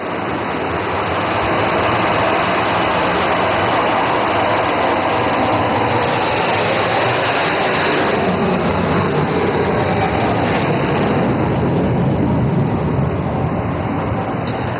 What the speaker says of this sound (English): aircraft is now opening full power. And now the afterburners are engaged.